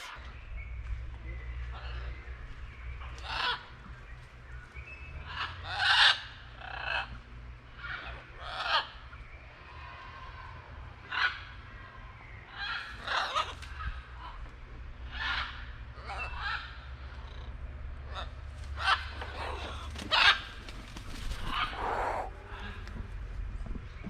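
Free-roaming birds, likely geese or fowl, honk and call in repeated bursts at moderate distance over a steady low rumble, with occasional voices in the background, on a trip through Nicaragua and Honduras.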